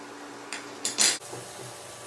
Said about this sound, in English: I'll take the lid off now.